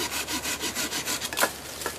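A Sven folding saw cuts through a small branch about an inch thick in quick, even back-and-forth strokes, the rasping rhythm close and steady.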